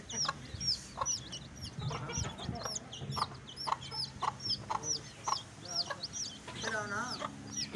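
A hen clucks near her chicks on a poultry farm, a close series of short, uneven clucks and chirps, with a soft murmur of voices in the background.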